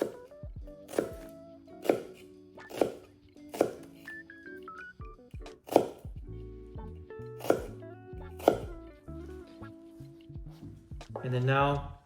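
A knife chopping down through an onion on a board, about nine evenly spaced sharp thunks over roughly ten seconds, each cut clear and close, with a voice speaking between the strokes.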